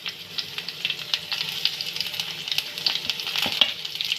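Onion goes into hot oil with frying whole spices such as cloves, cardamom and peppercorns, giving a steady close sizzle and hiss with occasional stirring scrapes and pops.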